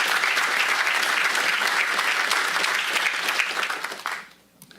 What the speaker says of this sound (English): let's give them another round of applause for the great work